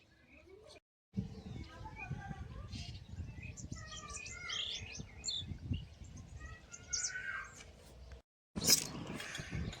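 Birds chirp and tweet in quick scattered bursts against quiet rustling, with a short silent gap near the end before a sharp final chirp.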